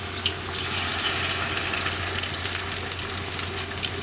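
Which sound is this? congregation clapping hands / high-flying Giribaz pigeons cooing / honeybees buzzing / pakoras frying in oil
pakoras frying in oil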